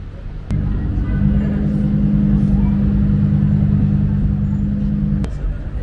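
Cars roll by in a steady stream on a Zurich city street, a continuous close engine and tire rumble that swells briefly between sharp clicks, with no clear talk.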